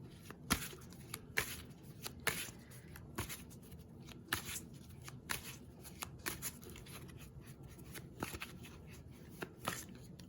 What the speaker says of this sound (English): the Grimalkin deck is going to be very similar in feel to this Wise Dog deck, just as far as ease of shuffle, the smoothness.